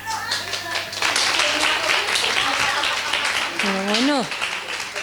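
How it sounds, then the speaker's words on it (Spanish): Audience clapping at a research conference session in a hall, steady applause running under a voice that speaks over it near the end. "Un aplauso a Puri."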